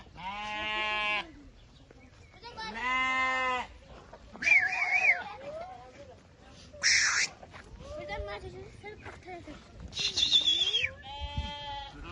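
Lambs from a flock of about 170 bleat repeatedly, several loud, wavering cries from nearby, with a voice talking between them.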